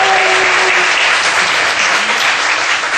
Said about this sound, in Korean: 김보미 자매님 박수 한번 하십시오